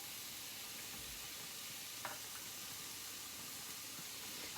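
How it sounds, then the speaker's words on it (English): Rice fries in a pan for African-inspired fried rice, giving a soft, steady sizzling hiss with a faint scrape of a wooden spatula partway through. "I use my wooden spatula which should fry those off a little bit."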